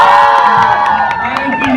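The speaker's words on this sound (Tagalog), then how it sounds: "Gusto ko marinig ang pinakamalakas na sigaw ng Ashley Nation in 3, 2, 1!" A crowd of fans shouts and cheers loudly together at a fan meet, with high excited screams and whoops sustained throughout.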